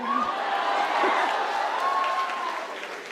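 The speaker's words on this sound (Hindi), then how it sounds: "लेकिन अगर तुम अपनी बहनों से प्यार करते होगे तो ताली बजाओगे।" Audience at a Hindi comic poetry gathering applauding, a sustained burst of clapping that fades toward the end, with a voice briefly speaking over it.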